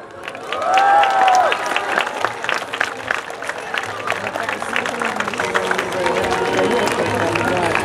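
Steady applause from a crowd at an outdoor town festival fills the space, dense clapping with cheering and a sustained vocal tone early on.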